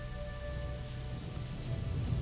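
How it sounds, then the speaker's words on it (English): Steady rain falling in the video game Gothic, a continuous even hiss with a thicker low rumble throughout, heard alone without voices. "this rain's kind of making this worse now"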